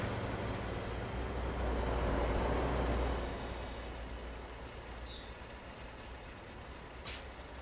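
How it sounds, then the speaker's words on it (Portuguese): Steady rain noise in the Euro Truck Simulator 2 truck game with a realistic rain and thunder sound mod, a broad continuous hiss over a low engine rumble, louder at first then easing slightly. "Quero ver se eu pego uma chuva mais forte"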